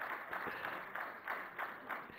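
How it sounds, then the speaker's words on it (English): Audience applause for badminton champion PV Sindhu at a felicitation event, a steady wash of many hands clapping with a few swelling pulses over a couple of seconds, moderately loud. "She deserves much more clapping."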